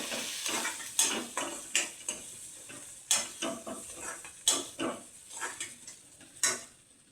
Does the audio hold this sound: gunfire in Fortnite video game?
no